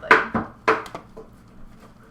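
Knife chopping food on a cutting board for a pizza gumbo dish, a few sharp close taps, two quick strokes then a pair, with fainter trailing chops.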